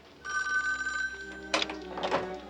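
An old landline telephone bell rings in an indoor scene, a clear ring followed by a second burst with a clunk as the call is picked up.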